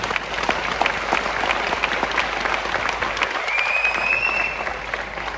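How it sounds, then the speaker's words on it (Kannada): An indoor audience claps together in a dense, sustained round of applause that keeps an even level throughout, with no voice heard over it. "ಸ್ವಲ್ಪ ಚಪ್ಪಾಳೆ ನಡೆದೋದಕ್ಕೆ"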